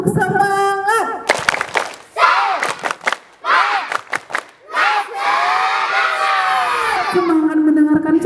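A group of young children at a school anti-bullying session clap and cheer together in loud bursts, with excited shouts and whoops rising between the claps and an adult voice leading them.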